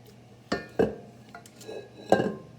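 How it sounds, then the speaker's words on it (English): Banana chocolate chip bread batter is stirred in a bowl, with a few distinct clinks and scrapes of a utensil against the bowl spaced out over a couple of seconds, close and fairly quiet. "do you want me to stir it, Sam?"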